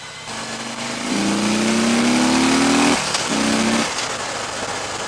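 A 2015 Harley-Davidson Electra Glide Ultra Limited motorcycle rides along, its engine note rising steadily in pitch under acceleration, dropping briefly, then pulling again over constant wind noise.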